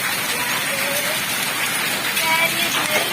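Hailstones falling together with heavy rain, a dense, constant patter and hiss of pellets and drops hitting surfaces close by, loud and unbroken.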